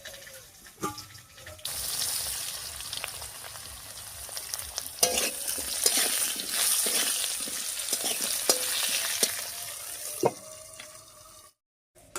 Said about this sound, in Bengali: একটুখানি হলুদ লবণ দিয়ে ঢাকা দিয়ে কিছুক্ষণ ভাজা করে নেব